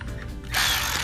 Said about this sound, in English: Cordless ratchet as well.